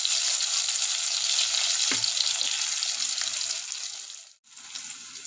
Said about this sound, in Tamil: வெங்காயம் நல்லா வதங்கியிருக்கு